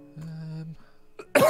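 A person coughs and clears their throat during a live stream, a short rough burst at the end of a brief clip that opens with a droning tone.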